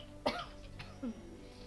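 A single short cough bursts out near a microphone early on, followed by a softer throat-clearing sound, both over a low steady hum with no speech.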